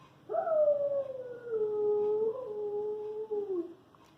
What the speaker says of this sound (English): This is a gray wolf.